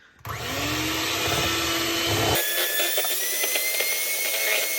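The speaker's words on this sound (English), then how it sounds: "I'm just going to use the hand whisk and just whisk it up" A hand whisk works an ice cream mixture flavoured with Jamaican Dragon Stout, giving a loud, steady whirring drone that runs the whole time with no talk over it.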